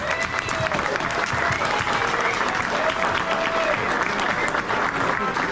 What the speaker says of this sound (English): give the staff here at Elliott Steakhouse another great round of applause